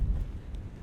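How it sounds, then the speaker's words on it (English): Low, rumbling wind buffeting the microphone on an Australian hilltop, a continuous blustery roar with no voices. "sorry about the noise, but it is very windy"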